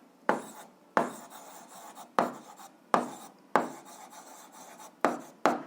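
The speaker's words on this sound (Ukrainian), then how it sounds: "Зараз її записуємо" A pen scratches out an answer to an algebra exercise, seven short strokes spaced about a second apart, each a sharp onset that quickly fades, close and quiet with no voices.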